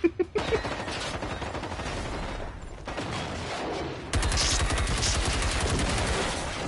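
Sustained rapid gunfire in a video game rattles continuously, with a louder, denser burst of shots in the second half.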